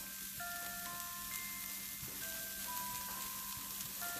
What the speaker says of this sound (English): Now we will go ahead and add tomato in it.